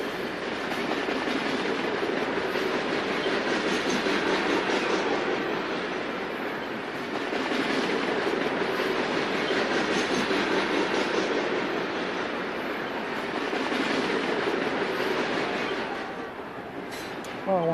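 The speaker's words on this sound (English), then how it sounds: "Very large train going by right now, Chris." A very large train passing close by, a loud continuous rumble and rolling roar with wheel clatter that swells and holds for many seconds, drowning out everything else.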